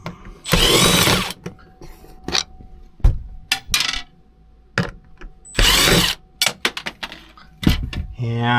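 A power drill on a light switch cover in a horse trailer, running in two sustained bursts of about a second each, mixed with sharp clicks and handling knocks close up.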